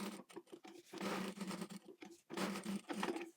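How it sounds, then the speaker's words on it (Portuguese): Faint, quick rattling bursts of a sewing machine stitching the sides and bottom of a synthetic quilted bag, running in short runs with brief pauses between them. "Agora a gente vai costurar lateral, fundo e lateral, dando retrocesso no começo e no fim."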